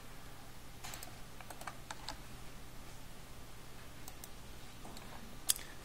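Keys clack on a computer keyboard as commands are typed into a Linux/UNIX terminal. Short clusters of quiet, close clicks and taps sit over a low steady hum, ending with one sharper keystroke near the end.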